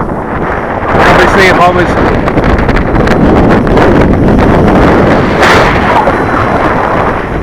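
Strong wind buffets an outdoor microphone at a radio-control model flying field, a loud, roaring rumble that swells and holds throughout while someone talks underneath it.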